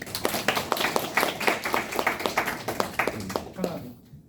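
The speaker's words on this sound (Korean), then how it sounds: "자, 크게 박수 한번 쳐주세요." An audience claps together, a dense, steady run of handclaps that fades out near the end, with a voice speaking over it.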